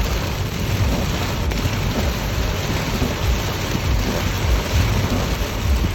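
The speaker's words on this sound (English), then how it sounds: "Hail is coming down, guys." Heavy rain and hail pound down in a storm, a loud, dense, continuous wash of impacts with a low rumble underneath, steady across the whole span with no voices.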